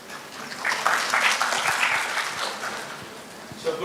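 An audience at a campus pre-placement talk claps after questions are answered, a soft, brief round of clapping in a moderately reverberant hall.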